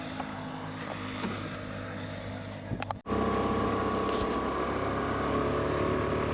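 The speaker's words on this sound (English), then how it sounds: "Let's do one thing, let's ride this and talk more about the scooter." A Suzuki Avenis scooter engine hums steadily, then after a brief dip swells into a louder, constant droning ride with rushing wind, no talking over it.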